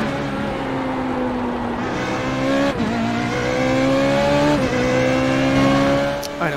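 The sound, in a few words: Formula Renault 3.5 race car engine in iRacing video game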